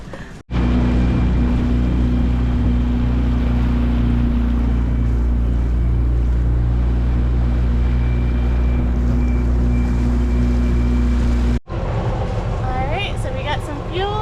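A sailboat motors out of harbour in Mexico, bound for Tenacatita: a loud, steady engine drone with wind and water noise that cuts out briefly near the end, followed by faint voices.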